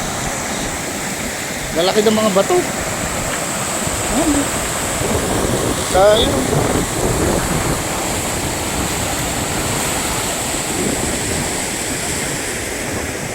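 A mountain river in Dulao, Malibcong, Abra, rushes over big rocks in a steady, loud roar throughout, with someone talking briefly over it now and then.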